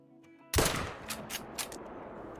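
A single .22 Hornet rifle shot fired at a fox in the hunting game Call of the Wild, a sharp loud crack with a trailing echo that decays over about two seconds, alone with no talk.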